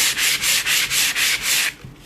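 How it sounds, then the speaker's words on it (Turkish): A painted relief paste tile is rubbed down with sandpaper in about seven quick, even back-and-forth strokes, close and fairly loud with a steady dry rasp, then stops. "Sonra zımparalıyorsunuz."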